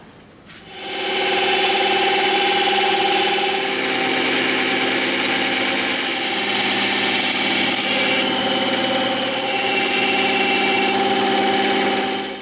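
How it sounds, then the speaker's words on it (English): Bandsaw with its table steeply tilted rips a bevel through EVA foam: the motor spins up, then a loud, steady whirring cut holds with slight swells for about eleven seconds, close and without speech. "So we're going to tip the table on the bandsaw and we're going to rip it."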